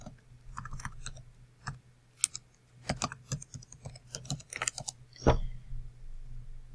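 Computer keyboard typing a web address, a quick irregular run of crisp key clicks with a few louder taps, close and fairly quiet, without talk.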